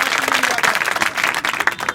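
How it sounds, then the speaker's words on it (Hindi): Audience of pupils and staff applauding a student named Akash at a school adolescent education program in Mubarakpur, a dense, steady burst of many hands clapping together, close and continuous throughout. "आकाश के लिए एक और जोरदार ताली।"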